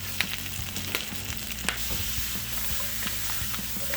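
Brussels sprouts frying in butter on medium-high to high heat, with a steady close sizzle and crackle and occasional stirring clicks, without talk.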